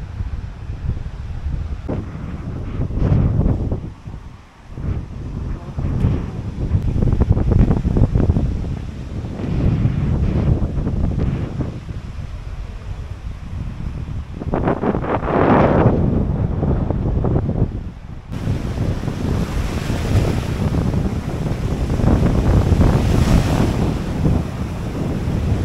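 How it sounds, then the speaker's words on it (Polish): Strong coastal wind buffets the microphone along the R10 bike trail on the Hel Peninsula by the Baltic Sea, with continuous loud gusting roar and surf-like rushing, rising in bursts and staying heavy throughout, with no talking. "No będzie wiało"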